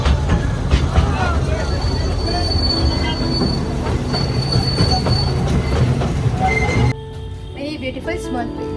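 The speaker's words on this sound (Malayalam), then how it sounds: "Original train അപ്പുറമുണ്ട്." A passing train screeches with loud wheel squeal over heavy rail rumble and clatter close by, then the sound drops abruptly to a quieter, thinner rumble near the end.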